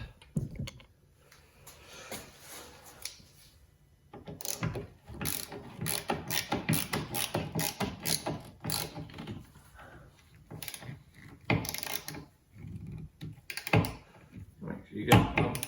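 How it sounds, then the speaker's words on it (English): A ratchet tightens the window regulator fasteners inside a Mk4 car door, giving repeated bursts of quick clicking close up, with pauses between them, while someone talks over parts of it. "Then we'll tighten up the fasteners."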